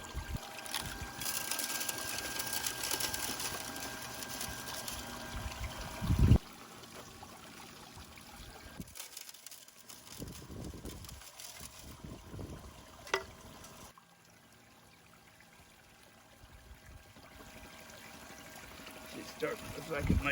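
A Gold Fox trommel runs with water flowing through its sluice, making a rushing, pouring wash that is busier at first, then thins and shifts in level, with a few sharp knocks along the way.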